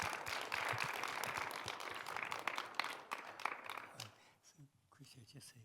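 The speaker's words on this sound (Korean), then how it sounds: "박수로 환영해 주세요" A gathering of Christian workplace professionals applauds to welcome a speaker, the clapping dense and sustained at first, then thinning out as voices and scattered claps take over.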